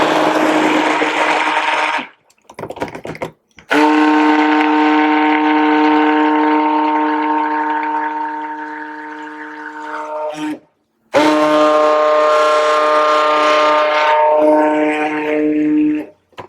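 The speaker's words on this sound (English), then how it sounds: "So just simply put your stick blender over it" A stick blender buzzes loudly in cold process soap batter, running in long steady bursts with a strong harmonic whine, stopping briefly between pulses and starting again.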